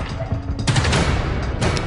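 A rapid burst of gunshots from a mafia shooting, with sharp reports fired in quick succession, a pair close together then more shots right after, loud and near.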